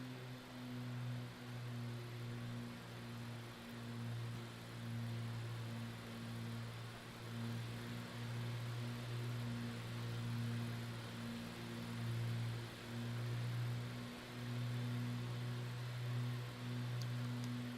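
Propeller aircraft engine held at 2,500 RPM in Microsoft Flight Simulator 2024, a steady droning hum with a pulsing low tone, constant and moderate throughout without talk.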